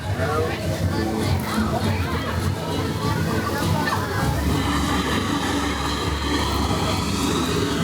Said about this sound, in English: water's constantly jumping all over the place here